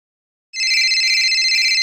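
A telephone rings steadily and loudly on an unanswered call, starting after a half-second of silence and continuing as an unbroken trilling tone with no voices.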